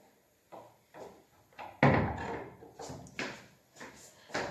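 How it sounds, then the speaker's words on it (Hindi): A kitchen door is pushed shut, giving a loud close thump midway, followed by smaller knocks and rattles at close range in a quiet indoor space. "सबसे मेन काम कि मुझे भी किचन का दरवाज़ा बंद करना है"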